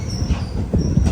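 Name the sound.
Mussoorie Express train arriving at Raiwala Junction station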